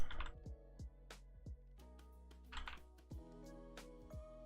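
Keys clatter on a computer keyboard at a trading desk: irregular, close clicks and taps over a steady tonal background, with no talking.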